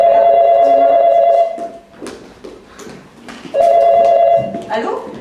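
An electronic telephone rings in loud bursts, falls quiet amid shuffling and footsteps, then rings again before being answered, close and clear.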